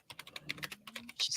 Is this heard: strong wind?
no